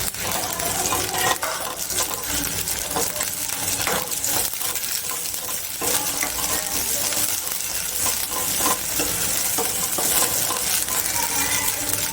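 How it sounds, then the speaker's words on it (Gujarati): Sweet corn and onion gravy poured into a hot pan for Kathiawadi-style sweet corn masala, giving a dense, steady sizzle and bubbling hiss that stays loud and continuous throughout, with no voices. "હવે આપણે આ જે સ્વીટ કોર્નની ગ્રેવી કરીશું એ નાખીએ"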